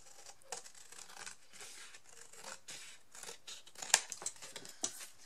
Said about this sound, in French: Donc là, je vais couper sur ce trait là.